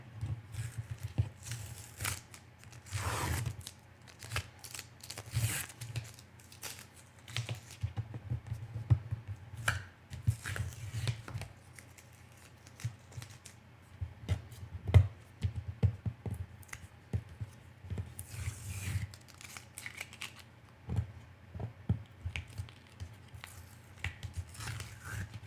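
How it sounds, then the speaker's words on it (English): Tape being peeled off a Cricut cutting mat, heard as repeated short crackling rips and clicks in irregular bursts, close and fairly quiet over a low steady hum. "Let's get all this tape off."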